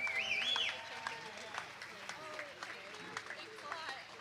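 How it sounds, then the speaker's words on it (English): Crowd applauding a silver medalist at a US Open pickleball championships ceremony, a moderate, diffuse clapping wash with a whistle near the start and voices mixed in. "a round of applause for our silver medalist"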